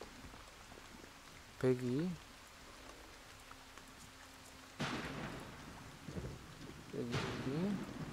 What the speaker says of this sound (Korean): 비 효과가 아주 끝내줘요.